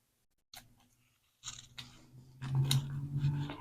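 Scissors snip off the edge of paper for a junk journal window frame, with a few close, crisp cuts after a brief silence and a rustling, slicing stretch toward the end.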